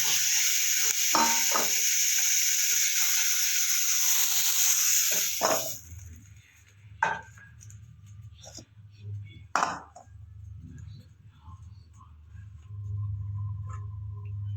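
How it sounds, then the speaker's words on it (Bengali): Broccoli sizzles and fries in a pan for several seconds, then the hiss cuts off, leaving scattered clinks and a low hum. "ব্রোকলিটা আমি হালকা করে একটু ভেজে নিয়েছি"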